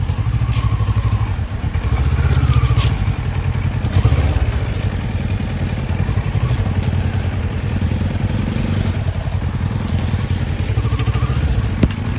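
A motorcycle engine drones loudly and steadily on a road, rumbling close by with slight swells in revving and some clattering, and no speech is heard.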